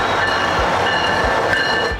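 A Florida SunRail commuter train at Lynx Central Station rolls with a steady rumble and faint high wheel squeal, punctuated by evenly spaced low wheel thumps over rail joints.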